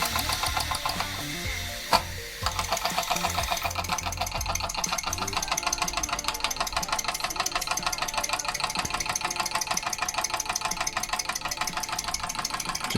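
A Mamod SE2a model steam engine runs on compressed air, giving a fast, steady mechanical chatter and rhythmic ticking that carries on throughout with no talk, after a brief knock near the start.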